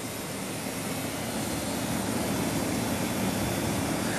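A Carrier 5-stage Greenspeed furnace running close up gives a steady, even airy whoosh with a thin tinny tone, without grinding or compressor noise.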